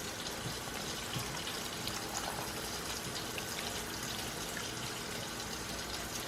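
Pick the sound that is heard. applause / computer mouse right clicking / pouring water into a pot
pouring water into a pot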